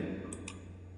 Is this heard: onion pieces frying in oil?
no